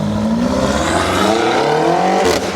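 A BMW car drives away outside, its engine whirring and rising in pitch as it accelerates off, steady and moderately distant, then fading at the end.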